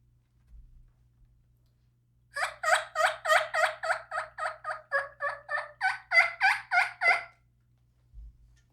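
A person imitates a turkey, a rapid run of about fifteen gobbling yelps, loud and close, rising slightly in pitch toward the end.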